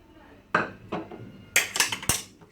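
A spoon scoops homemade yogurt into a pot for chicken pulao, producing several distinct metallic clinks and knocks against the rim, loud and close.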